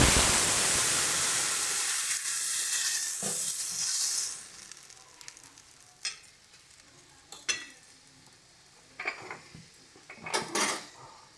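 Tomatoes drop into a hot pan with dried red chilli and white mustard seeds, setting off a loud burst of sizzling that fades within a few seconds, followed by scattered scrapes and clinks of a spoon against the pan.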